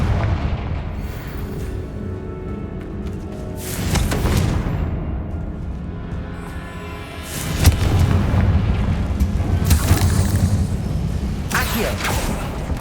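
Confringo fire spell explosion in the Hogwarts Legacy video game: a heavy booming blast near 4 seconds and another around 7.5 seconds, each followed by rumbling debris, over a constant low game ambience.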